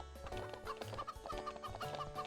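Clucking of a chicken in a video game, repeated short clucks over a busy game soundtrack of music and ambience, fairly close and steady, with no talking.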